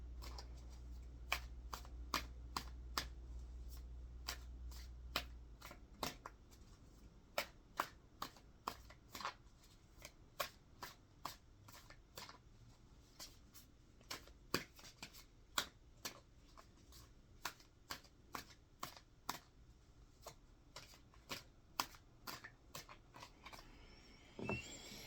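Tarot cards shuffled by hand: a steady series of crisp riffling snaps and taps, close and quiet, repeating for a long stretch with no talk.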